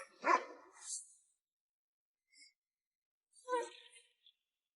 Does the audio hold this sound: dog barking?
yes